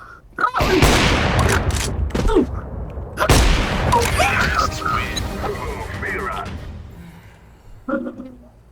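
Gunfire in a shooter video game: sharp, loud bursts of shots near the start and again a few seconds later, with rattling impacts between them, under excited, shouting voices.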